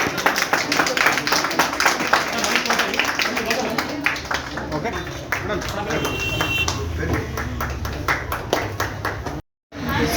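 Crowd applause at a hospital inauguration, dense clapping throughout, with a voice speaking over it, then a brief drop to silence near the end.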